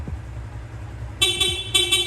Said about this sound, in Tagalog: busina naman ni stock horn